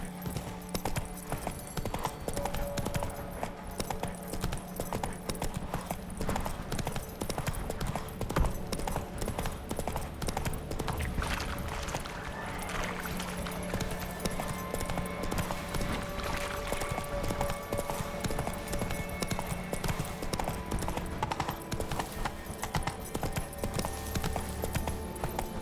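A horse gallops through The Witcher 3 in a steady, fast clip-clop of hooves that runs the whole time at a close, even level, set against a continuous game soundscape with a brief whinny-like sound.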